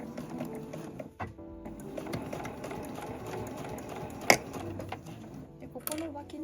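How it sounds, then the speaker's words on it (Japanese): Home sewing machine stitching 1 cm side seams on a canvas tote bag, a steady mechanical whir with rapid needle rhythm running throughout, broken by a brief pause and a sharp click near the end. "でこのような感じで輪になっている状態で両脇を1センチずつで縫っていきます。"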